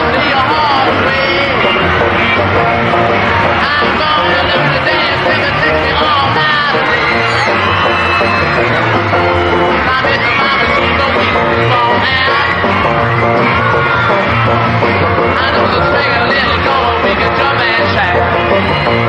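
At a 1963 gig, a dense crowd yells and screams continuously at full volume, a loud unbroken roar of shouting and whooping with music blended underneath.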